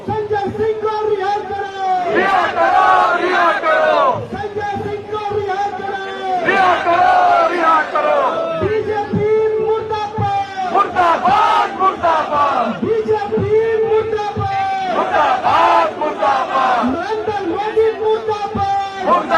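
AAP party workers protest on a Delhi street, a crowd chanting slogans in loud rhythmic waves of many voices shouting in unison, repeated call-and-response bursts close by.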